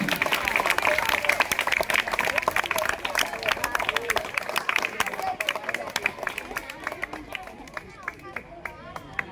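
A school quiz club audience applauds the winning team, sustained loud clapping from a crowd of students with some chatter, thinning toward the end into scattered claps.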